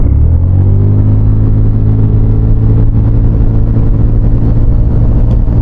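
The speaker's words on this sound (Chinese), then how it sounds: "然后我们把这个定速巡航关了，我们开油走" A Zontes 368G adventure motorcycle pulls steadily under open throttle with cruise control switched off, giving a loud, continuous engine drone with rising rumble and wind noise up close, no voices over it.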